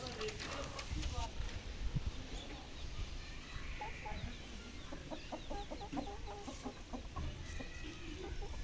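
Hens and a rooster cluck repeatedly in short bursts nearby, while a person talks over them throughout.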